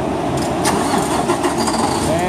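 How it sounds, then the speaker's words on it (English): Truck engine cranks and catches into a running idle, loud and close, with a person talking over it. "And the truck started."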